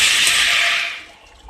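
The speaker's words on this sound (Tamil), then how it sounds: "இப்போ நம்ம தண்ணி ஊற்றிக்க போறோம்" Water pours into a pot for Kerala-style ghee rice made with basmati in a cooker, a close, bright splashing stream that tapers off after about a second.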